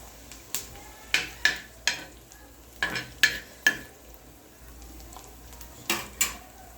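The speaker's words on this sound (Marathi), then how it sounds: "चणे भाजून झाले" Chickpeas are stirred while roasting in a pan, giving a series of sharp spoon-on-metal scrapes and clinks in irregular bursts over a faint background hiss, close up with no talk.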